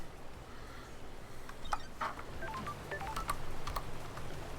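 Electronic phone-call tones from the video game Paradise Killer: a quick run of bright beeps and chirps, moderately loud over a steady low background hum.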